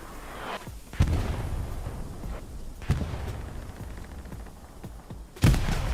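Grenades detonate in a Hell Let Loose match on the Sainte-Marie map, with several sharp booms near the one- and five-and-a-half-second marks and lighter blasts and shots scattered between, mixed with distant gunfire.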